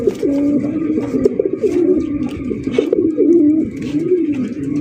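Sirazi pigeons coo continuously and loudly up close, a pair making repeated rolling, throaty calls with soft rustling and faint chirps behind.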